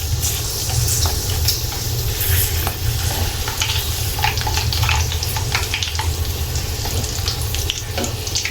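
Chips frying in hot oil sizzle loudly and continuously, a dense crackling hiss with scattered pops and occasional stirring, close up with no talk.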